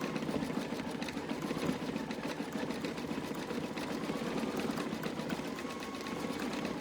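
Embroidery machine stitching a fabric mask, giving a steady, fast mechanical chatter with a rapid even rhythm that holds at a moderate, fairly quiet level throughout with no voices.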